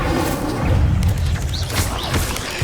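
A booming fire spell, Incendio, cast in the video game Hogwarts Legacy: a loud, dense burst of roaring flame with low thuds and crackling impacts over nearly three seconds.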